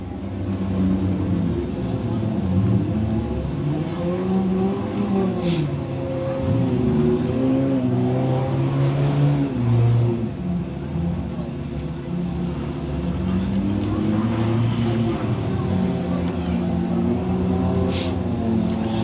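Race cars lap a track during an enduro race, engines droning and revving continuously with rising and falling pitch as they pass, loud and steady throughout, with a commentator's voice occasionally under the engines.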